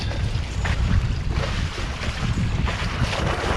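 Steady wind rushes across the microphone aboard a small sailboat making headway off Coolewong, with water washing against the hull in a continuous, close, fairly loud roar.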